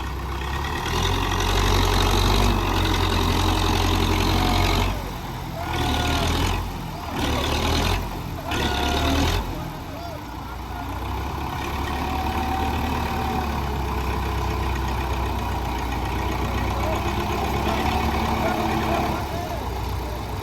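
A Russian tractor, just pulled out of the Chenab River, idles with a steady low rumble throughout while people talk nearby.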